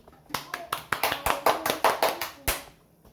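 Hands clap about a dozen times in a quick, uneven rhythm, crisp and close, with voices faintly present before the final clap trails off.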